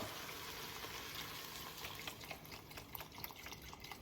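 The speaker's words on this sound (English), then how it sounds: "Now we're gonna pour the milk." Milk pours into a pot of corn chowder, a soft, steady liquid stream with small splashes and bubbling that grow slightly busier toward the end, fairly quiet and close with no talking.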